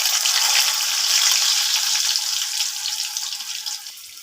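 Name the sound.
potatoes frying in mustard oil in a wok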